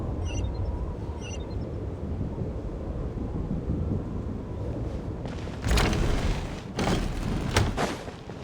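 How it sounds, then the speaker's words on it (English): A video game thunderstorm in a snowy setting, with a continuous low rumble of rolling thunder under steady rain and then several sharp, loud cracks of nearby thunder toward the end, no voices. "What is going on with this storm?"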